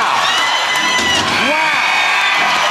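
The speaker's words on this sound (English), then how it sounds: "Let's give her a round of applause and make sure she feels..." A television studio audience cheers and whoops loudly in a dense roar of shouting voices, with a few rising yells in the middle.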